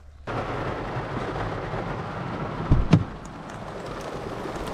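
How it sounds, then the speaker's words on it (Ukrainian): Rain falls over a lake and grows heavier, a steady close hiss of drops on the surface with a couple of low thumps partway through. "Ну, Дощик трошки інтенсивніше пішов."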